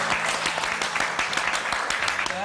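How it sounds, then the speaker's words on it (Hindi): Steady, dense applause and clapping from an audience, loud and continuous throughout with faint voices underneath. "बहुत ताली पीट रहा है।"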